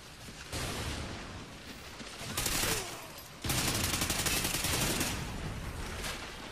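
Gunfire from the Call of Duty Ghosts video game plays in dense, rapid automatic bursts that swell and ease in volume, loud and near, sustained for several seconds, with little else heard over it.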